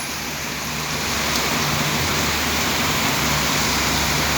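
Heavy rain pours steadily in Sachin GIDC, Surat, a loud continuous wash of falling water that holds unbroken throughout with no one talking.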